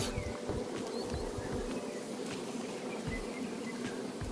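A steady, droning hum of many honeybees buzzing around hives at an apiary, with a constant swarm tone and occasional louder passes from individual bees close by.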